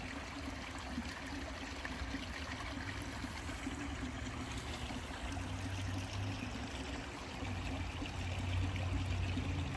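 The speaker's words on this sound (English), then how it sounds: "The creek runs out of that pipe there." Creek water runs steadily out of a pipe beneath a road at Mercer Slough Nature Park, a continuous broadband rush and trickle close by with no voices, swelling slightly louder toward the end.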